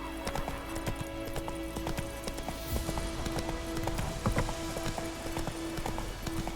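Hooves of Geralt's horse Roach gallop in a fast, steady clip-clop rhythm in The Witcher 3, close and prominent over game music tones and a brief spoken line.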